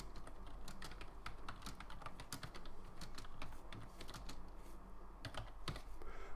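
Steady touch typing on a computer keyboard during a computer class, with rapid, irregular key clicks close by and continuing without pause, no voices.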